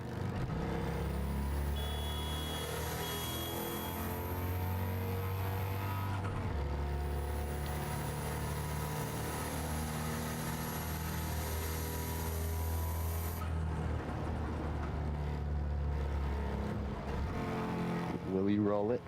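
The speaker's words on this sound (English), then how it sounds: "I love how the turbo is so much louder than the actual engine" Racing video game car with a whining turbo that rises over a droning engine, high steady whistles rising in pitch through gear changes, running continuously under a talking voice.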